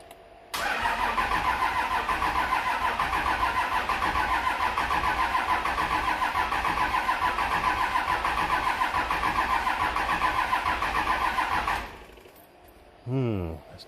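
A 2001 Cummins 24-valve diesel truck engine with a VP44 injection pump cranks steadily for about eleven seconds without catching, a loud, even starter churn that then stops abruptly.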